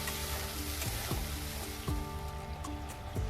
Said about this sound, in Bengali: মশলাটা খুব ভালো করে একটু কষে নেব।